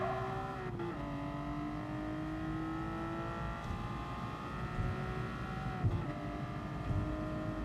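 A race car engine in the video game GT Sport drones steadily at high revs, its pitch dropping sharply twice as it brakes and downshifts, with a continuous tyre and wind rush beneath and no talking.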